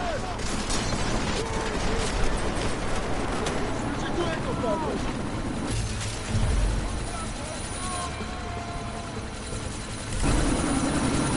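A helicopter in a sandstorm in the video game Deus Ex: Mankind Divided gives a dense, steady roar and rotor rumble throughout, with mechanical clanks and bursts layered over it.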